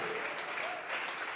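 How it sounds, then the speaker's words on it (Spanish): Church congregation clapping together as an offering of praise during a Tuesday Bible study service, a steady, dense wash of applause throughout with no break. "vamos a regalarle ofrenda de palmas al Dios de la gloria."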